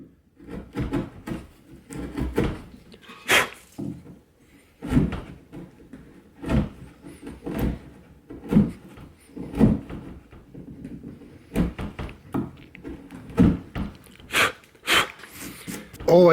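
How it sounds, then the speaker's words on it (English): A chisel pared by hand across a wooden door's hinge recess, giving repeated short scraping and tapping strokes, close and fairly crisp, with brief pauses between strokes. "working that corner of the chisel to level everything off"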